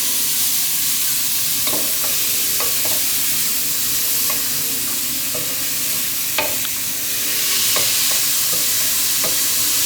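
Onions fry in a pan for a mushroom risotto, giving a steady close sizzle broken by repeated scraping and tapping from a stirring spoon.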